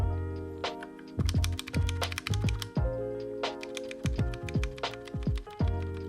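Typing on an Akko 3068 Silent Bluetooth mechanical keyboard with linear switches, close up: quick bursts of soft, muted key clacks in an irregular rhythm with brief pauses, no talking.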